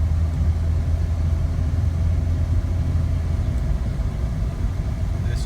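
Jeep engine on a quick test drive, a steady loud low rumble and drone heard from inside the cabin, continuous without changes.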